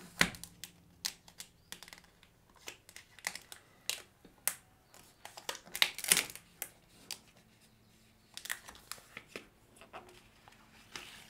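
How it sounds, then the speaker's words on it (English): Paper being peeled off a new Samsung Galaxy Z Flip 5 foldable phone during unboxing, a faint run of small crinkles, taps and scratchy rustles at close range with no talking. "go ahead and remove this paper"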